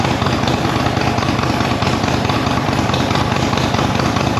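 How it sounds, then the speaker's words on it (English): A Harley-Davidson Milwaukee-Eight Touring motorcycle idles while warming up in a garage, a loud, close, steady engine rumble with an even, throbbing pulse throughout. "turn on the bike, and then I'll check it after I warm it up a little bit"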